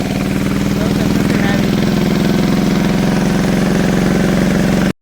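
A tractor engine idles with a steady low, chugging rumble that cuts off abruptly at the end.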